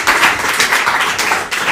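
A room of attendees at a political party workshop breaks into a sustained round of applause for the chairman, dense overlapping claps running steadily throughout with no speech.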